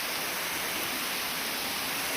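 Monsoon rain at Sapteshwar Mahadev temple pours steadily, a dense, even hiss of falling water that fills the whole stretch without pause, close and fairly loud, with no voices.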